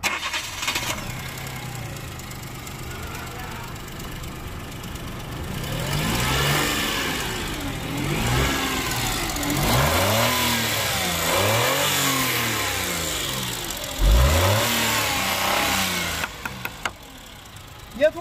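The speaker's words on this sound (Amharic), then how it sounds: "እስቲ መኪናውን አስነሳው።" A car engine turns over and starts, then revs up and down in several rising and falling surges before settling, loud and close, with a radiator that has been leaking water.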